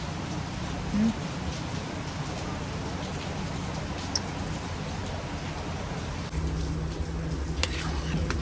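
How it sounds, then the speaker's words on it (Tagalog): Steady, dense hiss of heavy rain pouring down at night, continuous throughout, with a slight shift in the texture near the end. "Lakas ng ulan."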